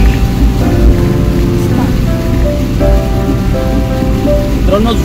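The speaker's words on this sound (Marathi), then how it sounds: "जोरदार पाऊस हा आजच इथे म्हणजे पडतोय" Heavy rain pours onto a car while driving, a loud, steady hiss and drumming on the body over the low road rumble, with faint talk underneath and a few soft tones passing.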